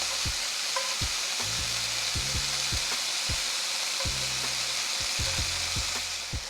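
Steak and diced onion frying in a pan make a steady close sizzle, with repeated low knocks and scrapes of stirring running through it. No one speaks.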